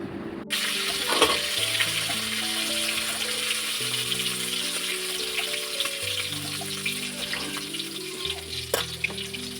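Oil sizzles and crackles steadily in a pan as shrimp fry, with a soft melodic tune playing underneath throughout.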